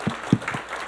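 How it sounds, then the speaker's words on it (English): A church congregation gives a short burst of clapping, a few distinct claps within a second, fairly close. "Can we give God a clap offering for that?"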